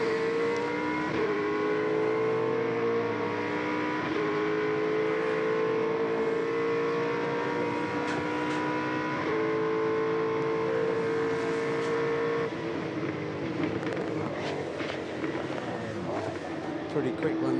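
A V8 Supercar engine racing in the wet at Sandown, a steady droning note rising and falling with gear changes and revs, under continuous commentary talk.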